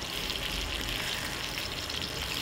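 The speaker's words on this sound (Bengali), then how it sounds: "তো মাছ এক পাশ ভাজা হয়ে গেছে, উল্টে দিচ্ছি।" Fish frying in a pan, one side done and ready to be turned, giving a steady, even sizzle and crackle that stays close and fairly loud for the whole stretch, with no voices over it.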